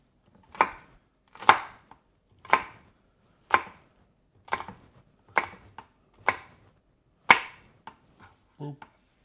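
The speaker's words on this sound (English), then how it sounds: "I guess I probably will cut up some garlic." Fresh garlic chopped with a knife on a cutting board: about ten crisp, evenly spaced chops close up, ending in a few quicker, lighter taps.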